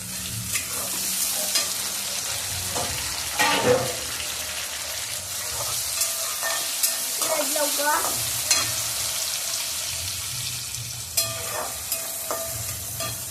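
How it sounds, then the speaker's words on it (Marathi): Onion and tomato sautéing in a pan for a Khandeshi Marathi dish, a steady close sizzle and frying hiss with intermittent scraping stirs and clinks of a utensil, no talking. "बघा, कांदा आपला छान पैकी परतला गेलेला आहे."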